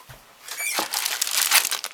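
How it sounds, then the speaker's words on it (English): Plastic bags crinkling and rustling as a 1:60 Darius Burst Silverhawk model kit is unpacked, a close, busy crackle building after a brief pause and continuing to the end. "I'll just get rid of all these plastic bags."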